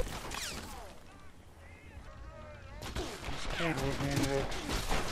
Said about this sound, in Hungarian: Itt lövöldözök a Nooktubbal.